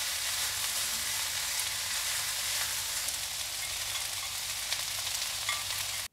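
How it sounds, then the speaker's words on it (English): Green onion whites stir-frying in a hot pan for yakisoba, a steady loud broadband sizzle that holds evenly throughout with no talking. "we're going to add the white part of the green onion. And then we'll cook it for about 30 seconds"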